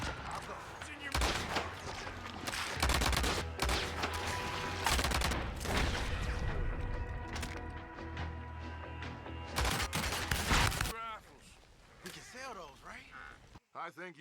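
A mansion shootout in Red Dead Redemption 2 brings dense, loud, rapid gunfire with overlapping shots for about eleven seconds, then it dies down as a voice speaks near the end.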